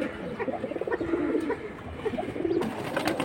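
A pair of silver bezi pigeons cooing close by in repeated soft, throaty pulses, a steady murmuring rhythm that continues without talk.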